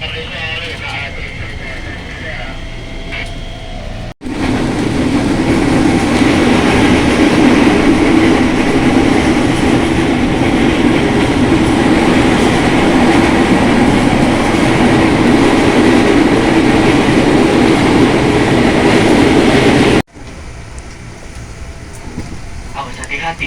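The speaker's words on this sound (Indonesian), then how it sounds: "KRL mulai diberangkatkan kembali." A KRL electric commuter train on the Jogja–Solo line pulls away from Delanggu station, heard from inside as a loud, steady rumbling drone with rail clatter that holds for about sixteen seconds between quieter stretches at either end.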